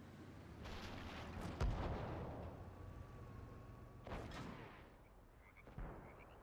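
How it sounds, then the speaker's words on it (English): Shots fired in an online video game match ring out as several booming bursts, spaced a second or more apart, over a steady rumbling game background with no talk. "As we see some more shots bouncing here."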